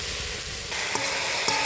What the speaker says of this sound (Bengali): এবার ভালো করে নাড়িয়ে ঢাকনা দিয়ে দেবো।